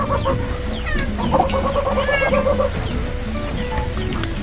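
Chickens and a rooster cluck and chatter steadily nearby, with overlapping fowl calls and a busy farmyard background throughout.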